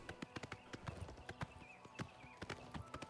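Horses gallop in the game Oblivion Remastered, a steady run of sharp hoof clip-clops drumming close by with a faint background bed and no talk.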